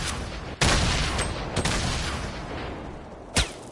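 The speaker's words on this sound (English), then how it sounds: "Where am I getting shot from?" Gunfire in a video game: a few sharp, loud shots cracking out amid a continuous dense noisy din, with no talk heard.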